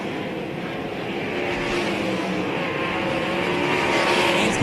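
Sprint race cars racing around a dirt track, a loud continuous roar of several engines that swells slightly as the pack passes, heard at a distance with no talk.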